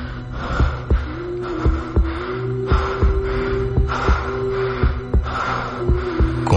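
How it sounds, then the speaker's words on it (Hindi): A radio drama sound effect of a rapid heartbeat and panting: regular deep thumps pulse steadily under breathy noise and a sustained low hum. "तो सिर्फ अश्मित के हांफने की और उसकी तेज धड़कनों की"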